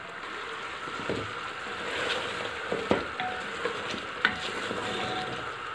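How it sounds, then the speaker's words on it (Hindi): Yogurt cooking in oil in a pan for a beef curry, a steady close sizzle and bubbling with scattered small pops and the occasional stir, no voices. "अब इस दही को हम पकाएंगे अच्छी तरह से।"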